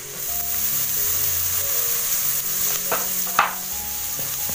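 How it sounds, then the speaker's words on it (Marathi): Chopped tomato goes into chicken masala frying in a pan over a wood-fired stove, with a steady sizzle and a few stirring scrapes, no talking. "नंतर थोडीशी हळद, आता हा टोमॅटो टाकूया."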